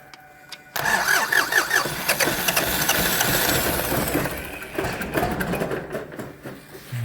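A tractor engine cranks and catches after a fuel pump repair, bursting abruptly from quiet into a loud, rough clattering run that settles toward idle.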